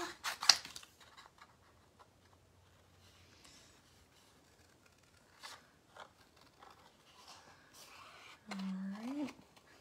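Scissors snip through a paper card around a cut-out sea turtle, producing faint, sparse crisp cuts in a quiet room, with a voice briefly joining near the end.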